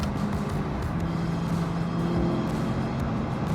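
A 4.7-litre V8 idles with its exhaust valves closed, giving a muffled, steady low rumble at close range with no talking.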